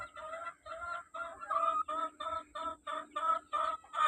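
An Elgama Grey gamefowl rooster clucks in a steady run of short, rhythmic calls, close and moderately loud, with no voices over it.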